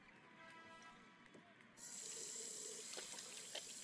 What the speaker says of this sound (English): Wasserhahn, Wasserhahn benutzen.